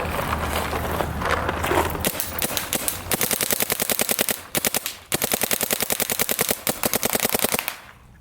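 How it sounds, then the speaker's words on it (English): Rapid bursts of shots from a Shocker XLS paintball marker, fired in fast strings with short pauses between volleys, loud and close with no talk. "So first, I'm gonna shoot my XLS just to be reminded of what it feels like to shoot it."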